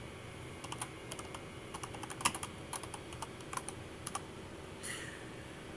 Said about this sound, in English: I'm going to type in Google Slides.